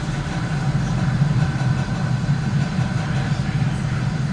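Low, steady roar of SpaceX Falcon 9 first-stage engines carrying a crewed Dragon on the Axiom-1 mission, heard about 38 seconds after liftoff as a continuous dense rumble with no pauses.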